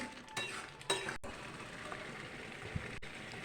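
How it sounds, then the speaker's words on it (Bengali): Egg halwa being stirred constantly in a pan over low gas, with soft scraping and a few light utensil knocks against the metal over a faint background hiss; no one speaks. "এটা অনবরত নেড়ে যেতে হবে, নাড়া বন্ধ করা চলবে না"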